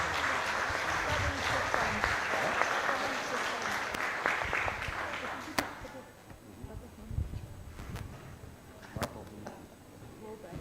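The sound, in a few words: applause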